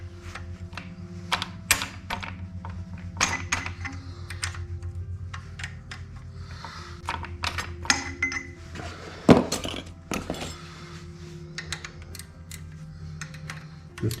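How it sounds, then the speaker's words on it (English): Small tools click and clink against metal parts while governor linkage is taken off a Briggs and Stratton Intek 20HP V-twin engine, close, sparse taps and light rattles scattered through the clip. "Time to disassemble this governor linkage from the shaft that goes internally to the motor."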